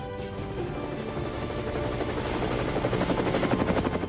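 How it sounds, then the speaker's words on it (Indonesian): A helicopter's rotor thumps steadily and grows gradually louder as it approaches, a continuous chopping drone with no one speaking. "tiba-tiba muncul helikopter melintas di atasnya"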